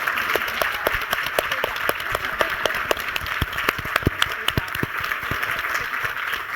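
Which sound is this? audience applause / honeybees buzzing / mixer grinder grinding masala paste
audience applause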